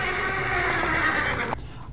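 Warcraft 3 Archmage hero death sound from the video game: a loud, close horse whinny with a shrill, wavering neigh that cuts off abruptly, leaving a brief quieter tail.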